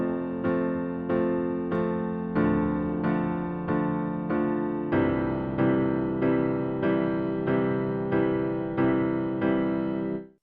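Piano chords are struck about once a second with the sustain pedal held down the whole time, so each chord rings into the next and builds a blurred, muddy wash of overlapping notes, steady and close.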